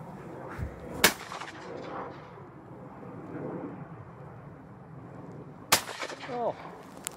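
Shotgun shots fired at pigeons and geese during a field shoot, two sharp loud reports about five seconds apart over quiet outdoor ambience.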